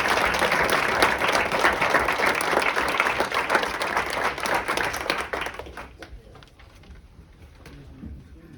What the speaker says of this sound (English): One more round of applause for Hannah Clerk, Caroline Higgins, and Hannah Scott